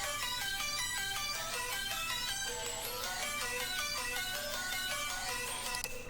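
In a future bass drop, a bright synth arpeggio of quick repeating plucked notes plays over layered saw chords with the top saw layer removed, a dense steady mix with no voices.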